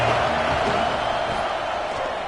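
A stadium crowd at a football game roars in a steady, loud wash of cheering that fades slightly toward the end, with no clear single voices standing out.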